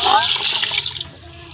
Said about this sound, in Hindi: और 1 किलो हम डालेंगे इसमें पानी।